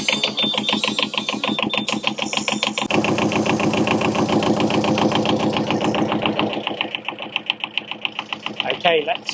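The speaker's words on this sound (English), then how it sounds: "let's turn the engine off" A steady, rapid mechanical chugging of a car engine idling close by during an oil change, continuous throughout, with a brief clatter near the end.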